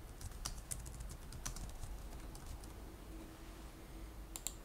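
Keys clacking on a computer keyboard as a name is typed, a run of quick, irregular light clicks at moderate distance with a brief flurry near the end, no talking.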